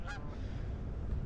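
Geese honk outdoors at a fishing spot, with a short burst of calls at the start over steady, windy open-air background noise.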